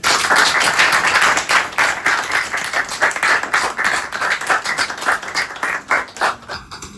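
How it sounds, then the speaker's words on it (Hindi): Office staff of a sales team applaud a colleague receiving a certificate at an appraisal event, with dense, loud, close clapping that holds steady and then thins into scattered claps near the end. "महा के लिए यार तालियां।"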